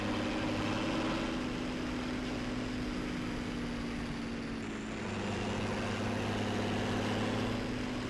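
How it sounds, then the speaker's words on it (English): Tractor engine in Farming Simulator 2017 runs continuously with a heavy, low droning hum and a steady tonal whine, holding nearly constant throughout with only a slight dip near the middle. "If I had a tractor that sounded like that"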